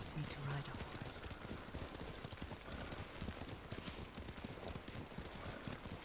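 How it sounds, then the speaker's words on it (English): A horse ridden in Ghost of Tsushima, a PS4 Pro video game, clip-clops in a steady, quick hoof rhythm under a rain-like hiss, with faint voices talking. "Lord Sakai taught me to ride a horse."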